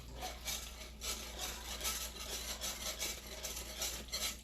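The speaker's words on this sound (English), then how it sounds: "she's going to continue whisk while we slowly add them in" A whisk scrapes and stirs cheese sauce with Parmesan in a pot for stovetop mac and cheese, steady rhythmic rubbing strokes close by with a low hum beneath.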